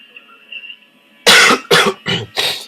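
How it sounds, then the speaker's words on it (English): A short throat sound followed by four loud, harsh coughs in quick succession, close to the microphone, with faint background hum beforehand. "Sorry about that, I've got a bit of a cough."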